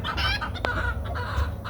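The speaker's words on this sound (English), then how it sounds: "That right there is another pretty hen." A farmyard hen clucks close by in a few short, rhythmic bursts, with faint background noise and no talking.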